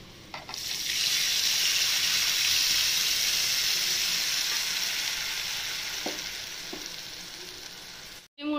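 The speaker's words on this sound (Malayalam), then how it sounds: "ഇനി ഇതിലേക്ക് നമ്മൾ പുളി പിഴിഞ്ഞത് ഒഴിക്കാം" Tamarind juice poured into a pan of fried ginger and green chillies sizzles loudly and steadily at close range, with brief clinks of utensils near the start and end.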